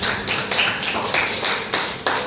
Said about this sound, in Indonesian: Semua kelompok baik yang terbaik maupun yang kurang baik tepuk tangan untuk semuanya.